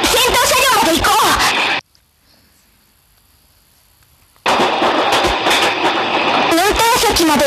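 A train runs in a video game, a dense loud rumbling rush with clatter that drops out briefly into near silence and then resumes at full volume, with voices talking over it.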